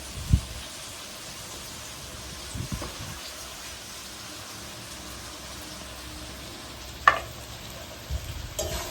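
Ghee-fried rice being stirred into ash gourd with sugar in a pan: a soft, steady sizzle with a few scattered scraping knocks from the spoon.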